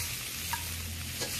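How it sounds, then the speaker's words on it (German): Shrimp sizzle loudly in a hot wok with crushed chili and garlic, a steady close frying hiss with a soft stirring scrape, and no talk over it. "Ich tue das etwas anbraten und gebe dann die 14 Garnelen dazu."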